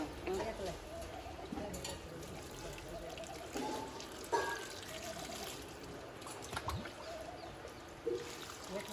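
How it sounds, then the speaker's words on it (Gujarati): Water is poured onto a peepal tree beside a Shiva temple, a soft trickling pour running beneath nearby talking, with faint bird calls in the background. "અહીંયા છે આપણે પીપરો પાણી રેડવાનો"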